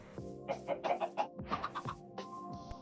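A chicken in the Minecraft video game gives a series of short, bright clucks in irregular bursts, fairly soft and alone.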